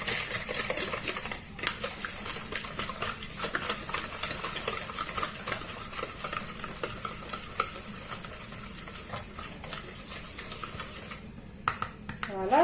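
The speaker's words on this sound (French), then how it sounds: "Je mélange tout ça." A spoon stirs brioche batter in a bowl, mixing sugar, vanilla sugar and baking powder into it with a steady, close scraping and clinking that runs continuously with small knocks against the bowl.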